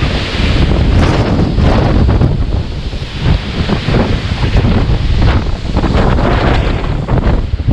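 Strong wind gusts roar across the microphone near the summit of Guadalupe Peak at about 6,000 feet, a loud, steady rushing buffet with surging gusts and no talking.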